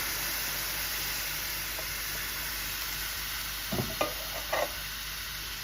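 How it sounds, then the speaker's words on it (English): Drained beans cook in a skillet with a steady, even sizzle and hiss, and a few soft stirring scrapes come near the end; no one speaks. "I'm going to go ahead and add beans to a skillet. I've drained them, and I'm just going to cook them."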